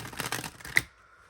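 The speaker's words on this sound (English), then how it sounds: "One more shuffle." A brief, close burst of tarot cards being shuffled by hand, a quick flurry of papery riffling that ends in a sharp snap and then silence.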